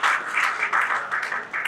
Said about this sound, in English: Once again, please give a clap to Dr.